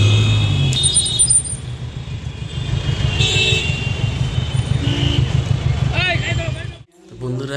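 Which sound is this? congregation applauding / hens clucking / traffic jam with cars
traffic jam with cars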